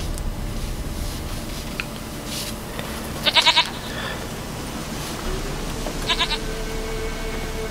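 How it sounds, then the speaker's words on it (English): A goat bleats in The Witcher 3 video game, two short bursts of repeated pulsing bleats, the first near the middle and the second toward the end, over a steady ambient game background. "Goat of mine, dearest, sweetest goat."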